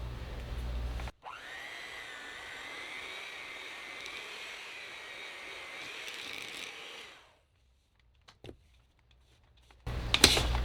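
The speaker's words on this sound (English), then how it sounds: "you can stir this, but I save me the trouble and I use a mixer." An electric hand mixer whirring through a bowl of snow cream gives a steady, fairly loud motor whine for about six seconds, then cuts off, leaving near silence with a few faint knocks.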